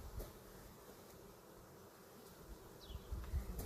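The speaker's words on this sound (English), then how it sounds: "There's still some bees that are still stuck on those." Honey bees buzzing faintly around hive frames during a honey harvest, a soft steady insect drone with occasional passes of a single bee, no talking.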